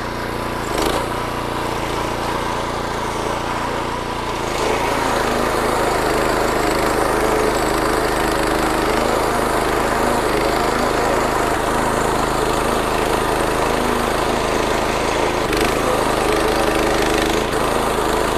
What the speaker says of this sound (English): I don't know how low I can cut this without bogging down my reel mower